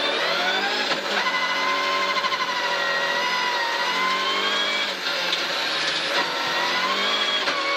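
Rally car launching from the start of special stage 2 at Rally Karlshamn 2023, engine roaring loud and close with rising revs and gear-shift dips, sustained for the whole stretch.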